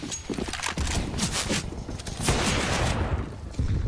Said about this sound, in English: Pistol bullets whizzing through.